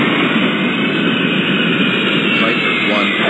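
A jet airliner takes off in the airport-management game Airport Madness 4, desert map at rush hour: a loud, continuous broadband engine roar holds steady for the whole stretch, close and unbroken.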